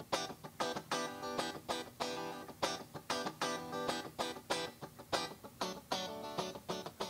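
A funk guitar loop with a short 0.4-second office-style reverb, rhythmic chord stabs repeating in a steady groove, close and moderately loud with a brief room tail.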